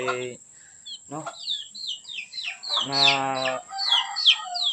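A red junglefowl rooster gives several short, close clucks and calls, with bursts of chirping from other birds nearby and a faint steady high tone underneath.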